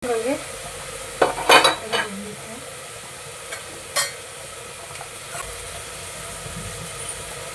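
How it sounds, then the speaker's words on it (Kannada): Kheer bubbling away in a pot, a soft ongoing simmer broken by a few sharp clinks and scrapes of a spoon against the metal near the start and middle. "ನೋಡ್ರಿ ಎಲ್ಲ ಕುದ್ದಿತ್ತೆ"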